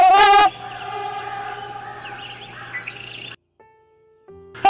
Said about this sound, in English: female trumpeter swans have a distinctive call which is used to defend territories